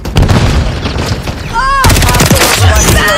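Gunfire in the Call of Duty Black Ops 6 multiplayer game: loud, rapid automatic bursts and booming shots that run on without pause, with whistling effects and game voice callouts mixed in.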